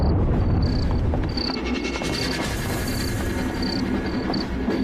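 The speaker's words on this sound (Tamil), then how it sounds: "ட்ரெயின் ரொம்ப ஸ்பீடா போயிட்டு இருக்கு" A train speeding along its rails, with a steady loud rumble and rhythmic rail clatter throughout, plus repeated high wheel squeals cutting in every second or so.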